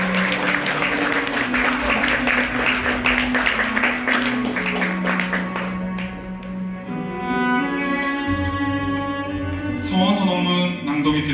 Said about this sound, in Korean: 신랑 신부께 다시 한번 큰 박수 부탁드리겠습니다.